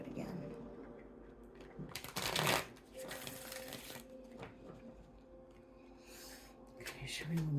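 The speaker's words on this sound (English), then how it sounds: "Another shuffle in there, and then we'll do it again." Tarot cards shuffled by hand in a quiet room, a run of soft riffling and rubbing with one louder burst of cards flicking together, then lighter shuffling under a faint voice.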